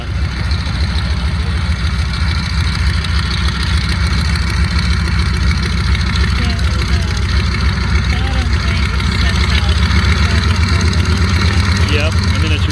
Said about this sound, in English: Radial engine.